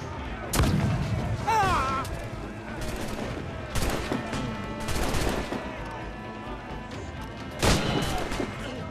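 Ship cannons fire in Assassin's Creed IV: Black Flag, several loud booming blasts at irregular intervals over rumbling battle ambience and game music.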